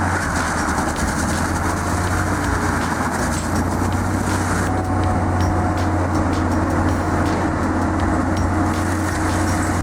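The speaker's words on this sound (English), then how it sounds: "the giant monster mulcher Awi RT800 seems ready to devour a large stump, with its powerful engine and exceptional strength" Heavy AWI RT800 mulcher engine grinding a large stump, a loud continuous rumbling drone with steady low throb and gritty grinding texture throughout.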